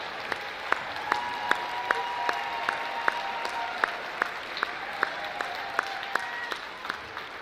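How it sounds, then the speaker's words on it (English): An audience applauds the English faculty at a school declamation event, with steady, moderately loud clapping lasting throughout and no voices over it. "let's give them a round of applause as well"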